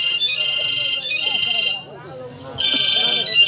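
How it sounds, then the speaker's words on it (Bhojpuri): A mobile phone ringtone plays loudly in a Bhojpuri action-comedy film scene, a bright repeating melody that breaks off for about a second and then resumes, with people talking underneath. "पिंटुआ के महबूबा का भी फोन आ गई"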